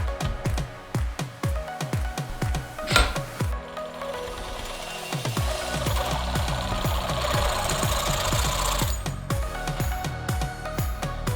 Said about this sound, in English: I'm gonna use the Sawzall again.